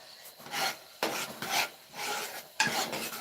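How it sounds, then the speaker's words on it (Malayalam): Payasam stirred hard in a large uruli vessel, heavy rasping scrapes of a paddle across the pot bottom in repeated forceful strokes, close up with no talking. "പായസമാകുമ്പോൾ ഉരുളിയുടെ അടി പിടിക്കാതിരിക്കാൻ അതിശക്തമായി നമ്മൾ ഇളക്കിക്കൊണ്ടിരിക്കണം"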